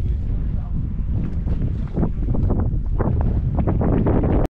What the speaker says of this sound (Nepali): चिसो हावा